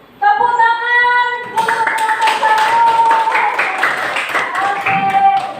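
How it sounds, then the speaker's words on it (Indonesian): Clapping from a small group follows a classroom conversation presentation. A steady, sustained round of claps starts after a brief tonal sound, with a faint tone carrying on underneath. "Tepuk tangan"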